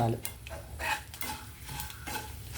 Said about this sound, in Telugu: తిరగమూత వేగిపోయిందండి, తీసేస్తానండి.